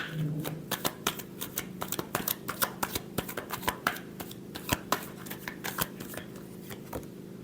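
Tarot cards being shuffled by hand, a quick run of soft riffling flicks and taps in a steady rhythm, close and fairly quiet.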